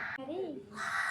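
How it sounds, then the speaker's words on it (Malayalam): A single crow gives a short, rising-and-falling caw, fairly near, against a quiet outdoor background. "അതിഥികൾ വരുമ്പോൾ കാക്ക കാറുന്നു"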